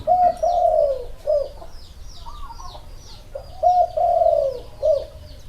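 Spotted doves (nok khao yai) coo in two repeated phrases separated by a pause, fairly close and clear, with faint higher bird chirps behind them.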